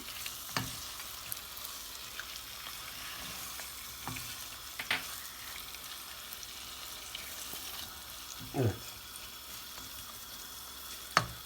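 A cucumber dish is stirred in a hot pan, giving a faint steady sizzle with a few soft scraping and clinking strokes of the utensil at intervals; no voices.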